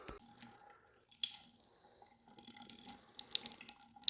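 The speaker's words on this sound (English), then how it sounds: "And I'm going to release a little pressure." Water drips and trickles faintly as pressure is released from an electric water heater during a tune-up, with soft, irregular drops and small splashes over a low hiss.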